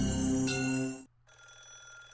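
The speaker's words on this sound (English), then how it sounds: "Suddenly a phone rang." A telephone bell rings in the Higurashi video game, a loud close burst of ringing lasting about a second, a brief pause, then a second ring that starts again.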